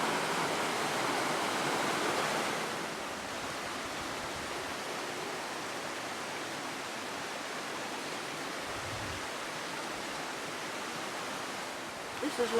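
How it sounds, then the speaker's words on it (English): Water of the River Sedell flows steadily past a mill, a constant broadband rush that is fairly soft and continuous, slightly louder at the start, with faint voices briefly near the end. "The mill on the River Sedell."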